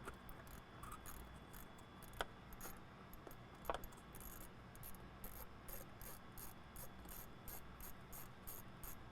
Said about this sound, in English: So next you're going to loosen the hose clamp down here and then you can pull off the tube.